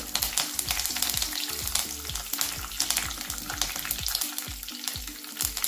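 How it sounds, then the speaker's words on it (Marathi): Cumin seeds and curry leaves frying in hot oil, a dense steady crackle and spit with rapid popping throughout, close and continuous. "1 चमचा भर आपण जिरे घालून घेणार आहे। कढीपत्त्याची पानं घालून घेणार आहे।"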